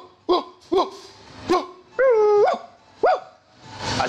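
A man imitates a dog, giving a string of short barks and yips followed by a longer, drawn-out whining bark, all close and loud, with no talk in between.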